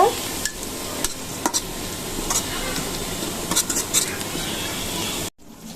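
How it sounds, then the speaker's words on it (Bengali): Onions sizzle steadily in hot oil, with occasional scrapes and clicks of stirring before the sound stops abruptly. "আমরা একটু পেঁয়াজটাকে ভাজা ভাজা করে নেব।"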